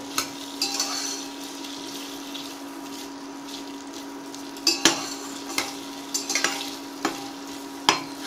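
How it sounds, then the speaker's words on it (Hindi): Potatoes fry in oil with a steady, close sizzle while a utensil stirs them, producing repeated scraping clinks against the pan, sparse early on and then frequent in the second half. "उसी तेल में हम आलू को डालेंगे और अच्छी तरह से मिक्स कर लेंगे।"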